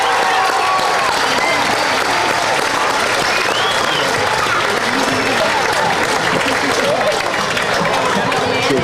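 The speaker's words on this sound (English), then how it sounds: "Let's really give him a great big cheer for all of his efforts in the lighted boat parade tonight" A large outdoor crowd at a lighted boat parade in Punta Gorda applauds and cheers loudly and continuously, with scattered whoops and chatter mixed into the clapping.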